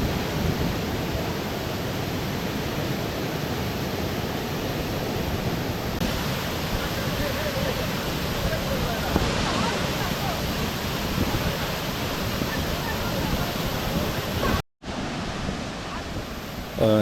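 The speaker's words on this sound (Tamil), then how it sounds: "தண்ணி வந்து நல்லாவே விழுதுங்க" Waterfall at Kanthalur Falls, a steady broadband roar of falling water, close and loud, continuing without a break and cutting out briefly near the end.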